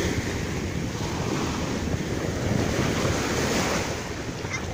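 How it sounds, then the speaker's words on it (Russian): Sea waves wash steadily onto a beach at Kyrylivka on the Sea of Azov, a broad continuous roar of surf mixed with wind buffeting the microphone, with no talking. "Вот такое вот море."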